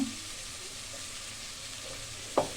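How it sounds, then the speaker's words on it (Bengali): Shrimp sautéing in oil with spices in a pan for bottle gourd shrimp curry, a steady soft sizzle throughout with one sharp scrape of a utensil near the end. "এখন চিংড়ি মাছটা ভালো করে কষিয়ে"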